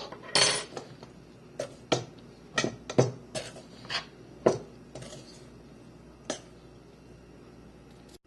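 A spoon scrapes and clinks against a bowl while falafel batter is mixed with flour and baking powder, giving irregular taps and knocks spread over several seconds, close by, with no speech.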